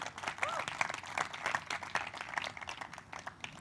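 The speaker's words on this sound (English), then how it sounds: "Round of applause, people." Audience applause at a live event with an inspirational public speaker, steady dense clapping filling the whole stretch at moderate loudness, with brief voices and crowd noise mixed in.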